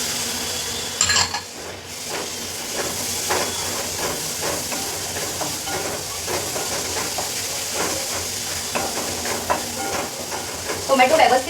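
Finely chopped tomato sizzles and hisses in a frying pan with garam masala, a steady close crackle broken by occasional stirring scrapes against the pan.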